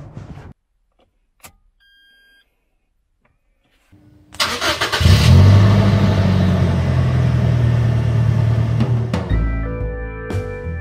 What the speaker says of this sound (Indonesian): Ini kita coba bawa aja mobilnya.